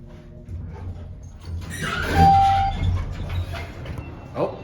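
A generic scenic hydraulic elevator at Denver Pavilions in Denver sounds a single short chime to signal going down, a clear mid-pitched tone held about half a second over a steady low machinery rumble and faint background noise.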